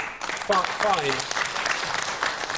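Steady audience applause fills the clip, dense clapping from a televised debate studio crowd at even volume while a voice speaks briefly over it.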